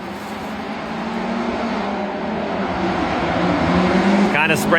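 Drift cars on track at Drift Appalachia, a continuous distant engine roar that builds gradually, with a voice speaking over it and a sharp rising whine near the end.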